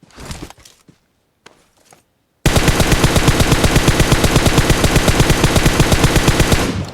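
In a video game, after a few scattered clicks and near-silence, loud rapid automatic gunfire erupts and keeps going in a dense, continuous burst, close and unbroken.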